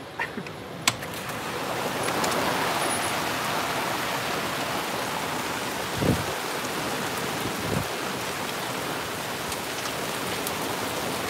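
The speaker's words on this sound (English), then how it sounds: "I'm a weather nerd, so I love storms, and there's a lot of wind with this one." A thunderstorm outside with strong wind and rain: a continuous broad wash of rain and gusts, with a couple of dull low thunder rumbles partway through.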